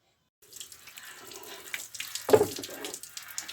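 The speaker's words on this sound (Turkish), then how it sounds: "Yıkayın bakalım bu şekilde köpük köpük yine." Water running from a tap while a kitchen counter in a village house is washed and rinsed, soft splashing that builds with a brief louder gush near the end, no talk.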